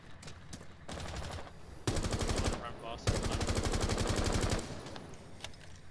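Rapid automatic rifle fire in Rainbow Six Siege on the Oregon map, several loud sustained bursts separated by brief pauses, with faint game sounds in between and no speech over the shots.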